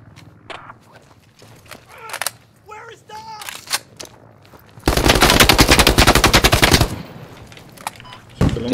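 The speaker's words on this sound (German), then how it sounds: "Von wo kam der Schuss?" Sustained automatic gunfire from the video game Squad, a dense loud burst lasting about two seconds, preceded by scattered shots, clicks and footsteps, with another loud shot at the end.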